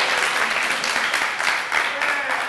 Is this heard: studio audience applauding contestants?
yes